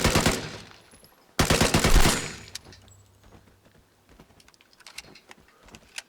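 A gun fired in the survival shooter Vigor: two loud rapid bursts of automatic fire with heavy recoil, followed by quieter scattered clicks and handling noises.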